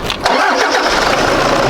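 A 2014 Toyota Fortuner SUV with an automatic transmission cranks briefly and starts. Its engine then settles into a loud, steady idle close by, with no talking.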